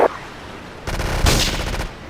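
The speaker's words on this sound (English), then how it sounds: "All cars vicinity Portland Harbor, investigate reports of gunfire and explosions." Gunfire crackles in a dense, loud burst of rapid shots in the video game GTA III at Portland Harbor.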